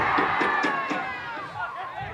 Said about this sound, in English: An impromptu cheer.